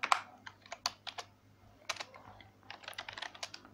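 Typing Python code on a computer keyboard produces quick, irregular clicky keystrokes in short bursts with brief pauses, close and fairly quiet against a faint steady hum.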